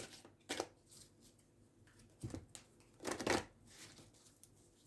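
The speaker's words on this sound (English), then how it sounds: "wait while I lay the cards out and see which one draws your eye" Tarot cards laid out one at a time on a table during a love reading, giving a few soft, separate swishes and taps spaced across the quiet stretch, with no talking.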